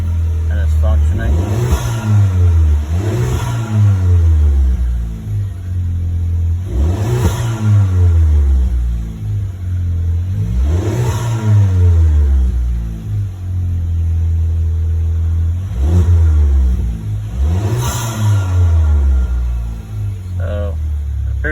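A 2019 VW Jetta with the 1.4T engine revs repeatedly at idle, each blip rising and falling in a steady rhythm, loud and close, capped by a rev limiter around 4,000 rpm.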